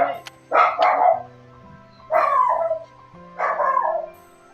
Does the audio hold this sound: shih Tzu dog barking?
yes